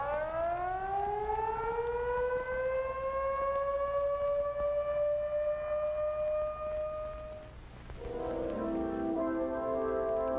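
Civil defense alert signal siren, one long steady mechanical wail rising to a sustained tone, then a second siren tone beginning, loud and alone without voices.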